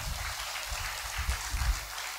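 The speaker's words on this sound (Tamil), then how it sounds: "கைத்தட்டுங்கப்பா." Congregation clapping during a Tamil church sermon, a brief burst of dense, moderately loud applause that fills the short moment.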